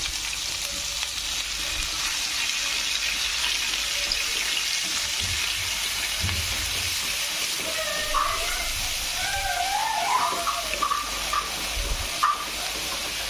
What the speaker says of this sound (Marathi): आता जे वाटण आहे ते तेलामध्ये छान परतून घ्यायचं.